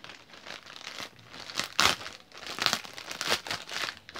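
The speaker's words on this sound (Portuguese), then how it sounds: "Esse quinto pacote tá meio ruim pra abrir." Plastic shopping package crinkling and tearing as it is pulled open by hand, with several sharp rips and steady crumpling up close, no talk.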